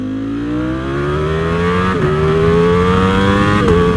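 Custom Ducati Streetfighter motorcycle engine pulling hard as the bike accelerates, its tone climbing steadily, with two brief dips at gear changes, loud and close, without talk.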